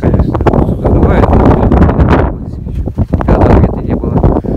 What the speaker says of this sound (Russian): Ветер, плохо, ветер, конечно, задувает.